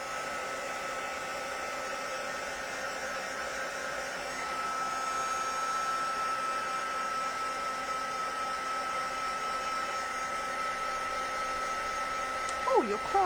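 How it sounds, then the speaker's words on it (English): A craft heat tool blowing hot air for white embossing runs as a continuous close whir with a steady tonal whine, growing slightly louder partway through and ending with a few small clicks. "I'm just going to give it a little heat with the heat tool once more"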